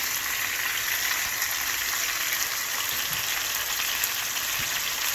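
A steady, bright sizzle and rushing hiss of seasoning liquid poured over chicken in a hot pan, continuous and close, with no talking.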